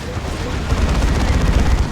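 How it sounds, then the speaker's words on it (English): A grenade blast in Dawn of War 2, a loud low rumbling explosion with crackling debris that swells midway and rolls on to the end amid battle noise. "Decent grenade by Overtly."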